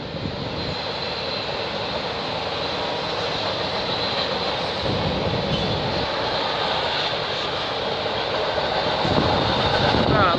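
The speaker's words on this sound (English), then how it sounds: "271 train coming. All right, we got 271, which is gonna be all" A CN freight train hauling empty auto racks rolls past in Milton, Ontario, a steady loud rumble of engines and wagons filling the whole stretch, with a few swells in the noise as cars go by.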